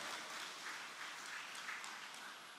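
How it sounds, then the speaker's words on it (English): Audience applause at a Christian gospel concert, a song fellowship in Ghana, forming a steady, fairly faint wash of many hands clapping for a performer with no voices over it. "A huge round of applause, ladies and gentlemen,"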